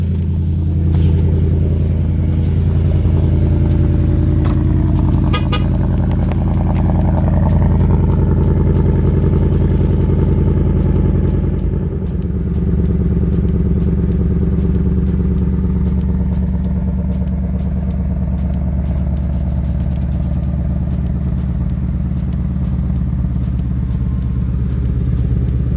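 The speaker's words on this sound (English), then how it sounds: "hear that exhaust with the different exhaust" A 2021 Ford Mustang GT with active exhaust runs with a deep, steady engine rumble heard up close. The loud, continuous drone shifts slightly in tone partway through, and no one talks over it.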